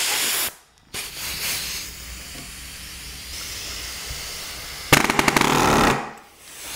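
A pneumatic framing nailer fires nails into wood, giving sharp loud bursts with the hiss of compressed air, a rapid cluster of shots near the end over a steady background hum.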